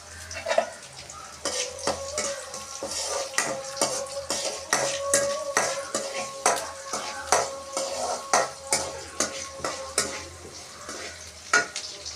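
Chopped onion sautéing in a pan after mustard seeds have popped, with steady clinks and scrapes of a spoon stirring against metal over a soft sizzle, the strokes repeating in an even rhythm, close by with no talk.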